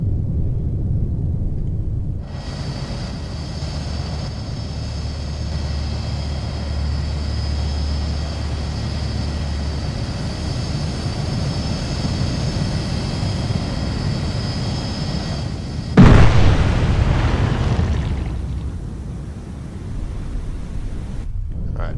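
Cold Waters submarine game launching a salvo of weapons, a loud continuous low rumble with a steady mechanical hum, then a sudden harsh burst of noise near the end that trails off back into the rumble.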